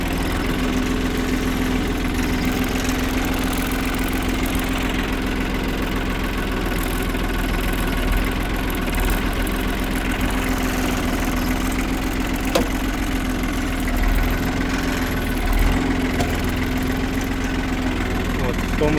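A tractor engine idles steadily for the whole stretch while ploughing a field, a low continuous rumble with a constant hum and faint rattling, close by and fairly loud.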